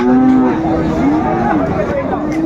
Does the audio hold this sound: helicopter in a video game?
no